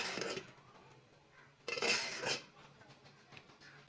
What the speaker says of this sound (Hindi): आलूओं को बाहर निकाल लेंगे